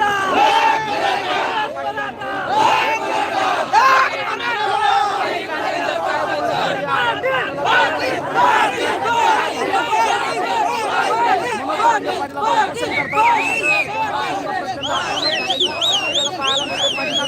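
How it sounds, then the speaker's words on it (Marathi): A huge crowd of Maratha protesters shouts and chants at a rally, dense overlapping voices loud and near, with rising cries and whistles toward the end and individual shouted words within the din. "प्रचंड गर्दी आहे या ठिकाणी"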